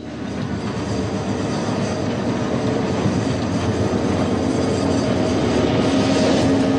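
A train runs through a railway crossing near Hatton. Its wheels rumble and clack steadily and loudly for the whole stretch, close by, with no voices.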